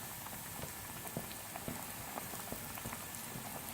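Chicken pieces frying in hot oil on a medium flame, making a dense, continuous crackle and spatter like steady rain, close and even throughout.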